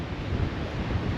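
Wind buffets the microphone on the Cleveland Way coastal path between Robin Hood's Bay and Whitby, a brief, steady rushing noise with no voices.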